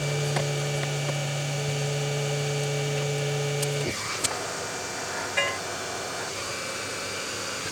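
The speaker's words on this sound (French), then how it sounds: "ça c'est le pistolet à air chaud pour réduire" A heat gun shrinks heat-shrink tubing over cable wiring: a steady close humming drone cuts off abruptly halfway through, leaving quieter room noise and a few small clicks.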